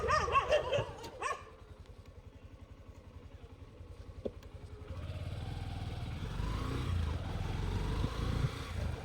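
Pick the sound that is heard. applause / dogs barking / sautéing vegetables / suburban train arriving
dogs barking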